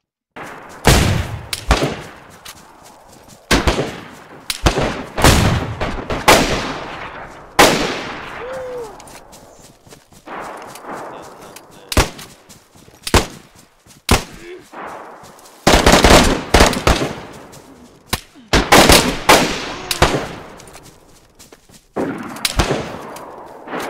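Gunfire and a grenade blast in the video game DayZ during a team deathmatch, loud sharp shots in single cracks and rapid bursts with echoing tails, under intermittent talk from players.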